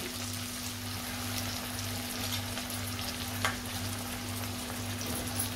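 Onion and tomato sizzle in a pan for chavli batata bhaji, a continuous close frying hiss with soft stirring scrapes and a few brief sharper crackles, no talking.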